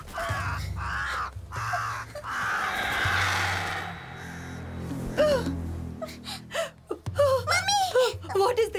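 A crow caws a few times near a frightened group outdoors, harsh calls mixed with gasps, whimpers and excited talking.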